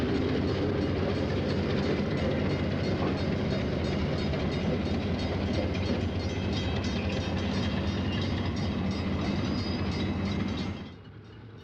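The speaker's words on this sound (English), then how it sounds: "On the tracks for the suburban branch, the train of old equipment prepares to return to the coach yard in Blue Island." A train of old Rock Island passenger cars rolls steadily along suburban branch tracks near the Blue Island coach yard, loud and close with continuous rumbling and wheel clatter, fading out abruptly at the end.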